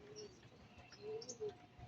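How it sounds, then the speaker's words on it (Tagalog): Two homing pigeons on a loft roof give faint, soft cooing calls, a few low murmuring notes spaced apart over quiet background noise. "nandito na yung ating dalawang kalapati"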